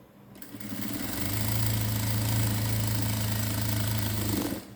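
Sewing machine stitching three layers of cloth together for a patti, a single steady close whirring run that builds up, holds for a few seconds and stops.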